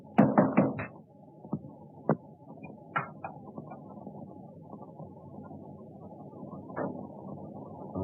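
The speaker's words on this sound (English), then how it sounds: "I heard a knock at the door." Several sharp knocks strike a door in quick succession, then a few more isolated knocks over a low steady room hum, with no talk.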